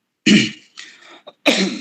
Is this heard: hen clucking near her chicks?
no